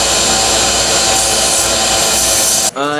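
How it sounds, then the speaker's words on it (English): Robot parts being deburred and cleaned up in a robotics team's workshop: a loud, steady rasping, grinding tool noise runs unbroken for several seconds, then cuts off abruptly. "I'm deburring and cleaning up the parts."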